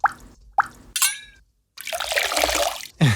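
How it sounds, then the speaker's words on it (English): Odd bubbly sound effects made from a water recording: a few short tonal bloops and chirps, a sweeping bubble, then a dense burst of fizzy watery noise and a final low bloop, close and fairly quiet. "There's like this kind of a weird bubble sound."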